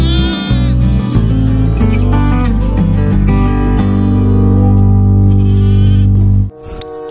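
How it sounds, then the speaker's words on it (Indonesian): A loud, sustained goat bleat from the video game Jurassic World Evolution 2 with a synthetic, game-like tone, held steady for several seconds before cutting off abruptly. "Wah, ini adalah kambing."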